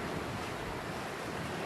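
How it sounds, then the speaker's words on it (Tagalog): The river mouth at Agno, Pangasinan pours a forceful current into the sea. It sounds as a constant, full roar of flowing water mixed with wind noise, with no voices over it. "Pero lakas ng agos"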